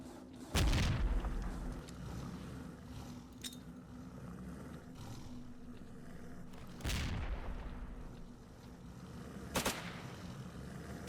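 Heavy booms of a grenade and other blasts in a S.T.A.L.K.E.R.-style game, three loud separate explosions spaced several seconds apart over a low steady hum.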